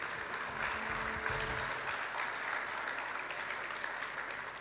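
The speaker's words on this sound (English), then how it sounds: "she deserves all the applause" A sustained round of audience applause fills a conference hall at a talk on epidemic preparedness, dense and steady from start to finish, with a low murmur of voices underneath early on.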